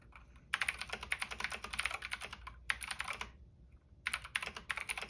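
Rapid, clicky typing on a Keychron C2 mechanical keyboard with blue switches, up close, in several bursts of keystrokes separated by short pauses, with no voices.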